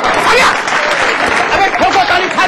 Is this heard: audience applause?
yes